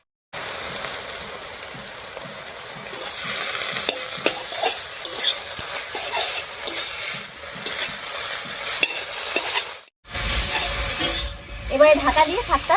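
Leafy greens (dandakalas shak) being stirred and cooked in a pan, with a steady sizzle and repeated scraping strokes over about ten seconds, a short break, then a louder burst of stirring and frying.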